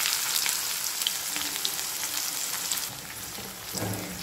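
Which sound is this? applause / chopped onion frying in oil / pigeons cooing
chopped onion frying in oil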